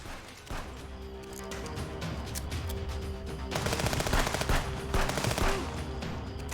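Gunshots ring out as rapid automatic bursts, dense and rattling, one after another and growing heavier midway, with crashing impacts over a steady background drone.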